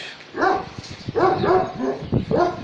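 A dog, at a farm with Anatolian Shepherd dogs, barks and yelps several times in quick succession, loud and close, with whiny, excited tones.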